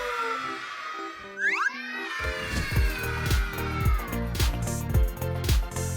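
A cat meows in a few rising, drawn-out cries, then goes on crying over a bright, rhythmic musical backing with boing-like cartoon accents, loud and close.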